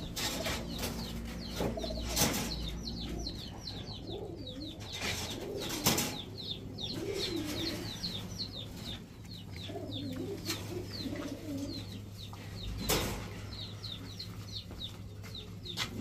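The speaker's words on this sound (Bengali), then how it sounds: "এই হচ্ছে পাল্লা করা কবুতর, খয়রা গলা কবুতর" Khoyra Gola breed pigeons kept as high-flyer racing birds give soft repeated coos and chirps, with a few brief bursts of wing flapping over a low steady background hum, fairly close and continuous.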